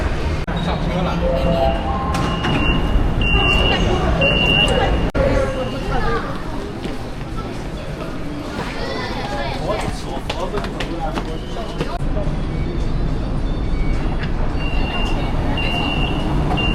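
A Hangzhou subway train rides along with a continuous rumble and rattle, while a few chime-like tones and muffled voices sit in the background.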